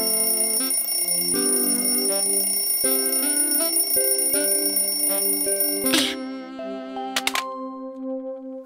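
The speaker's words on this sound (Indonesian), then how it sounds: "Oh, alarm berbunyi." Cartoon alarm clock ringing in an excavator's house, a steady bright electronic bell tone running continuously for about six seconds, then cutting off into a few short chimes and a softer sustained tone.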